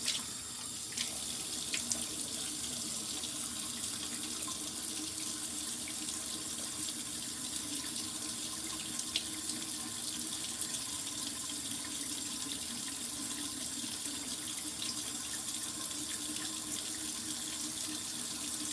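Cold tap water runs steadily into a bathroom sink while exfoliant is rinsed off the face, a continuous close splashing hiss with faint drips and no talking.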